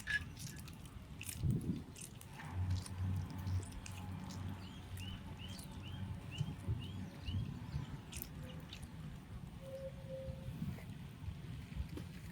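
Washed tomatoes squeezed by hand into water for a traditional village-style fish curry, giving soft, wet squelching and dripping that stays low and muffled beneath a steady background hiss.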